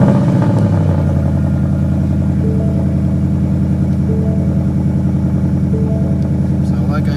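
A stock car's engine cold-starting and idling, a loud, close, steady rumble with rhythmic mechanical clatter throughout, holding a constant pitch for several seconds without clear revving.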